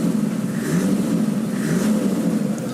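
A 2004 Toyota Land Cruiser 70 with a naturally aspirated 4.2 liter 1HZ engine runs steadily near the microphone, a low continuous engine drone with slight swells, no one speaking.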